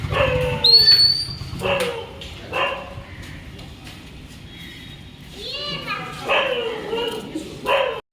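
A dog tied up in front of a hotel in Digha yips and barks in short bursts, mixed with children's voices and people talking nearby.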